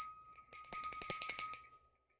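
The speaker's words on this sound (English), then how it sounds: "so I will ring that bell" A small bell is rung close by, giving a bright metallic ringing with rapid repeated strikes that last under a second and a half, then a quick fade to silence; no talking.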